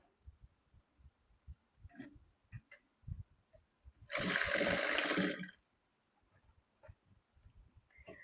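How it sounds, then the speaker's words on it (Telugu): A sewing machine runs in one short, loud burst of about a second and a half while stitching the side seam of a maggam-work blouse, with scattered quiet taps and handling of cloth before and after. "ఇప్పుడు ఇక్కడ నుంచి స్టార్ట్ చేసుకొని మనం సైడ్ జాయింట్ ని స్టిచ్ చేసుకోవాలి"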